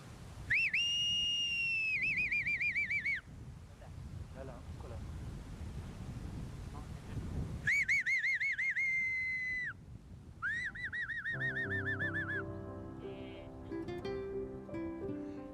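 A person whistles to call baby Tibetan antelopes at a fenced animal rescue facility in Badakhshan, Afghanistan. Loud, warbling whistles come in three bursts over gusty wind noise, followed by plucked musical tones.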